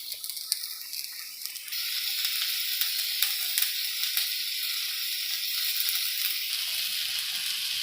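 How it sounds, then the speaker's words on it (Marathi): Safflower leaf greens sauté in a pan with a steady hissing sizzle that grows louder partway through and holds at an even level, close up with no speech. "आता आपण एक पाच एक मिनटं तिला परतून घेणार आहोत चांगली थोडीशी कडक होईपर्यंत"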